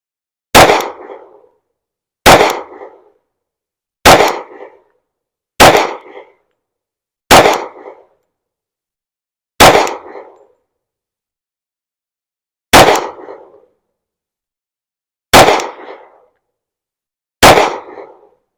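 Loud gunshots from a Springfield Armory XD-M Elite 10mm pistol: nine sharp single cracks, each with a short ringing decay, spaced unevenly a second or more apart against silence.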